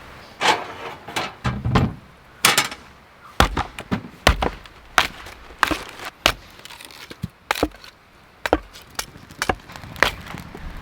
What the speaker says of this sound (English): We got the fire going, wait for those coals to form a bit.